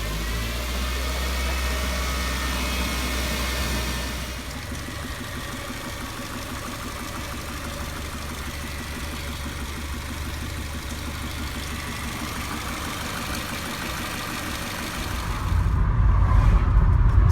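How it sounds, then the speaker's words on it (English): A Ford Transit Connect van on a road test, steady engine drone and road rumble from inside the cab, constant and loud, with a surge of deeper low-end noise near the end. "van's all done, out on a little bit of a road test"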